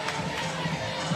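A raucous crowd fills a women's college volleyball match between Louisville and Clemson with a steady, dense roar, and a voice talks over the noise throughout this brief moment.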